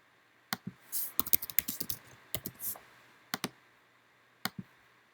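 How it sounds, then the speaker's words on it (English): Quiet, close computer keyboard typing comes in irregular bursts of crisp key clicks with short pauses between words, set against a near-silent room with no voices. "So what you can do is you can type in Maddie Sutton, 2291 Young."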